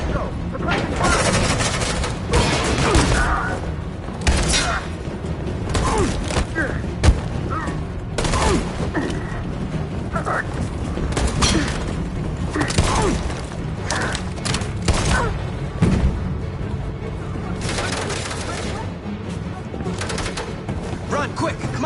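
Gunfire in the video game Detroit: Become Human: repeated shots and booming thuds in a chaotic firefight, with shouting voices over the shooting throughout.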